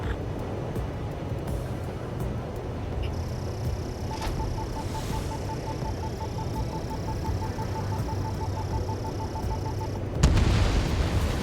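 Ace Combat 7 combat scene where an anti-air radar vehicle is destroyed: a rumbling game explosion under constant jet and battle noise, followed by a sharper loud burst near the end.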